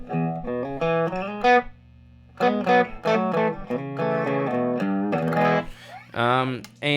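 Electric guitar played through a wet reverb patch on a pedalboard: sustained, ringing notes and chords with a washy tail, broken by brief pauses between phrases.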